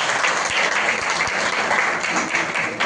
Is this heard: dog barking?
no